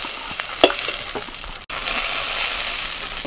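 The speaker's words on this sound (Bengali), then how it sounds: "এবার এই বেগুনটা ভাজলেই হয়ে যাবে।" Eggplant slices frying in hot oil in a village kitchen, a steady close sizzle with a few sharper crackles and a brief dropout midway, no voices.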